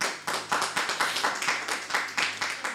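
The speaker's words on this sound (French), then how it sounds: "Applaudissons pour Jésus-Christ." Congregation at a Sunday church service clapping in unison, a strong regular rhythm of loud synchronized claps at steady tempo, with a low hum underneath.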